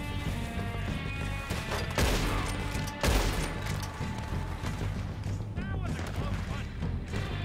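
Gunfire in Red Dead Redemption 2, a scattered series of sharp shots and impacts under a steady layer of game sound, with people talking over it.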